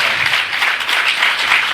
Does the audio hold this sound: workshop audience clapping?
yes